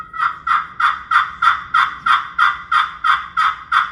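Hen turkey yelps from a hickory striker friction call, a steady run of about a dozen evenly spaced, nasal, raspy notes, close and loud, with no talking.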